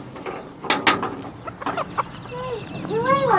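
Chickens on a Portugal homestead make short clucks and rising calls at close range, with a few rustling knocks between them. A person speaks briefly nearby.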